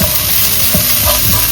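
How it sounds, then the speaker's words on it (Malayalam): Onion and ginger fry in a pan for chicken curry with a dense, steady sizzle and occasional stirring scrapes, close and loud throughout, with no voices. "നല്ല ബ്രൗൺ ആവുന്ന വരെ ഒന്ന് വറുത്തെടുക്കണം."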